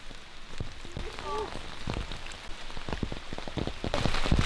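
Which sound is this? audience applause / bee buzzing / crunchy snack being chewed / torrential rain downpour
torrential rain downpour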